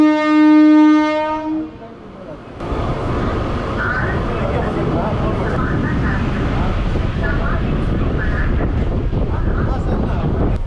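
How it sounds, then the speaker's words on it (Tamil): A train pulls into Manavur railway station in Tamil Nadu, opening with a long loud horn blast, then a steady rumbling roar of carriages rolling and slowing on the rails with some wind buffeting. "அடுத்ததா இப்போ ட்ரெயின் வந்து நிக்கிறது மணவூர் ரயில்வே ஸ்டேஷனுங்க."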